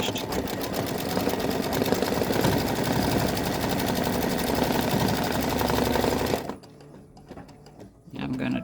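Close up, an embroidery sewing machine stitches an Easter gnome design in a fast, steady needle rattle for about six seconds, then stops abruptly, leaving a quieter mechanical hum before a brief restart of motor noise.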